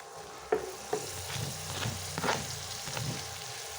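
Chopped banana stem and dried fish frying in a pan, soft sizzling with a few sharp spatula knocks and stirring scrapes, close and fairly quiet, no talking.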